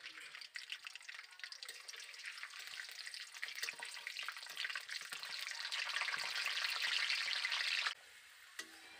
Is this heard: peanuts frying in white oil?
yes